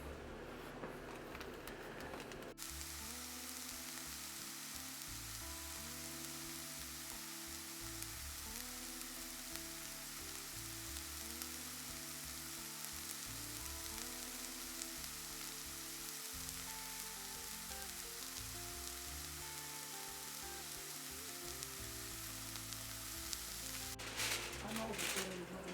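Trout frying in a pan on a wood stove gives a steady, dense crackling sizzle that runs close and even throughout, with a faint low hum beneath and muffled voices in the background.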